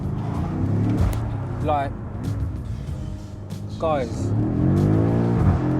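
A 2018 BMW M5 engine revs hard in Sport Plus with the exhaust button on, its turbos spooling up in rising surges, loud and close, while someone talks over it.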